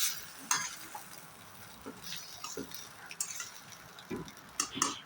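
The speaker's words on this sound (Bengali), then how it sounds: "একটু লেড়ে চেড়ে বন্ধ করে দেবো" A utensil scrapes and clinks in a pan while stirring spiced pasta, making scattered short strokes over a faint sizzle. The sound is quiet and close, with no talk over it.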